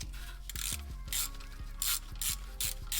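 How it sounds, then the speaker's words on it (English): A ratchet backs out a 10mm bolt holding a car's ABS sensor, giving a close, quiet run of quick clicking pawl strokes in short bursts with no talk. "So now I'm removing the bolt for the"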